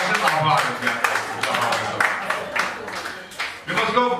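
An audience at a comedy show claps in quick, rhythmic bursts that carry through the clip while a voice talks over the applause.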